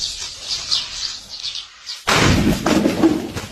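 Birds chirp faintly, then Diwali firecrackers burst suddenly and loudly into a sustained crackling, rumbling blast.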